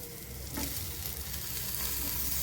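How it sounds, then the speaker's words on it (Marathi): Chopped onion and tomato fry in a hot pan with a dense, steady sizzle and crackle, close and continuous, with a slight stir or shift of the pan early on. "आपला कांदा आता छान लालसर भाजत आलेला आहे यामध्ये आपण आता एक टमाटर घालूया"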